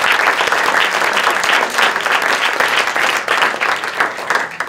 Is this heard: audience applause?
yes